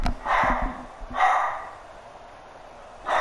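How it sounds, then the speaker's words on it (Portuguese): Pet dog barking indoors at home in bursts: a quick cluster of barks, another round a moment later, then a final bark at the end, fairly close and loud. "o meu cachorro tá latindo demais"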